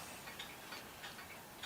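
An antique clock ticks quietly close by in an even, quick rhythm of about three beats a second, with nothing else heard.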